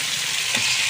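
Meat with green peas for village-style ghugni sautéing in a pan with chili powder, turmeric and salt, giving a loud, dense, continuous sizzle up close for a brief moment.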